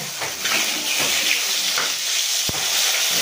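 Pieces of katla fish sizzle steadily in hot oil in a home kitchen, a loud continuous crackling hiss with a sharp metallic clink from a utensil partway through.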